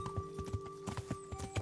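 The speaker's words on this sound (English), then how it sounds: "Park your horse somewhere else, Hans." Horse hooves clip-clop in the medieval video game Kingdom Come: Deliverance, a quick, steady run of close hoofbeats over a faint tonal background hum.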